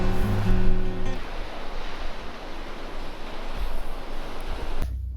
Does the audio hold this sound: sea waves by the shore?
yes